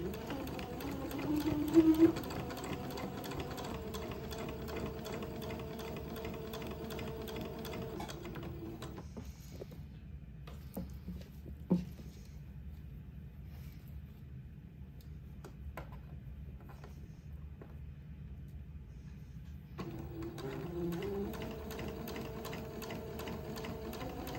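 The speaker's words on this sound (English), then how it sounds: "I've got a little more than 2 yards of sewing to do to get this lace panel sewn onto the bottom of the dress" Sewing machine running steadily close by as a lace panel is sewn onto the bottom of a dress, a continuous whirring drone with a quieter stretch in the middle and a few faint clicks.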